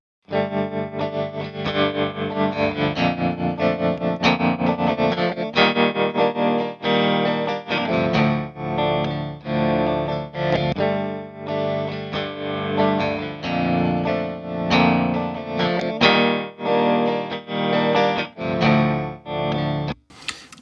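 Electric guitar chords sustained through a tremolo pedal, the volume wavering steadily throughout, played alone with no voices.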